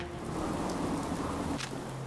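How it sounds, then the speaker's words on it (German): Steady rain in Fallout 4, a continuous broadband wash of falling water with a low rumble underneath, even and fairly loud throughout, no voices. "Ja, Mann, hier regnet's auch."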